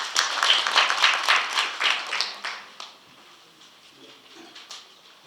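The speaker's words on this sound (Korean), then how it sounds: "박수로 환영해 주시기 바랍니다" A smaller audience at a book launch claps to welcome the author, a moderate burst of individual claps that fades after about three seconds into scattered taps and quiet room noise.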